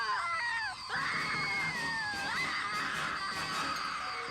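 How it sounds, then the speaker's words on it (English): Characters screaming in the English dub of a 90s anime, long piercing sustained screams with a brief break, loud and continuous throughout. "In the dub, they scream so hard."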